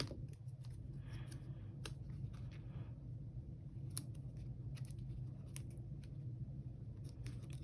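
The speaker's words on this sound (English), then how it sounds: "I'm gonna cut it like this though." Scissors snip through a planner sticker, with several quick, close, crisp cuts spread across a low, steady room hum.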